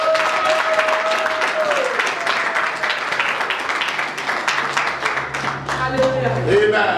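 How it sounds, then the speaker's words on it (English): A church congregation claps steadily through a Sunday service, loud and sustained from start to finish, with a voice and tonal music sounding over the clapping. "Can you clap for this God?"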